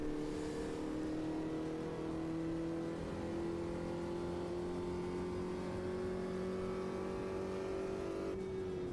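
A Formula Vee race car on grooved tyres in Automobilista 2, its engine droning steadily at high revs with a smooth whining tone that slowly rises in pitch, heard alone and continuous.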